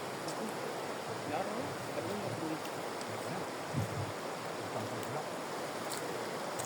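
Steady outdoor flow of water, a continuous broadband rush that stays even throughout, with faint voices and small knocks over it.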